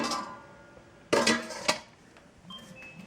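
The metal pans of a cheap $50 charcoal smoker grill clank and rattle as they are handled: a loud, close clatter burst, a second sharp knock, then quieter scrapes and taps.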